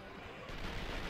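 Gunfire in the action video game Vanquish, a dense burst of firing and blasts that swells after a moment, loud and continuous over a short span.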